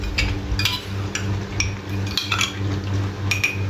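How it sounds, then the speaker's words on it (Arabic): A spoon stirs rice pudding briskly in a metal pot, giving repeated close clinks and scrapes against the sides over a steady low hum, with no talking. "هقلب بقى بسرعه، هقلبها كده بسرعه"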